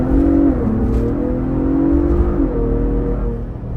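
A Ford Bronco Raptor's engine revs loud and close while driving, climbing in pitch, easing, then rising again, with no talk over it.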